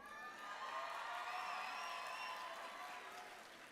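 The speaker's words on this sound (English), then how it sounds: "Can we hear a loud cheer?" A crowd at the opening of a Model United Nations conference at the American University of Sharjah cheers and whoops in a large hall, sustained voices mixed with some clapping that rise, hold, then ease off, heard rather faint and distant.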